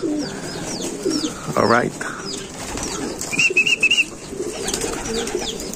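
Racing pigeons arriving home from a race, low cooing calls and a burst of wing flapping nearby, with chirps and outdoor background; someone speaks briefly.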